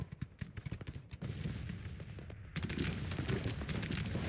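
Cannon artillery fire in the Grand Tactician: The Civil War video game, a rapid series of sharp booming shots followed by a denser, continuous rumble of overlapping blasts at moderate volume.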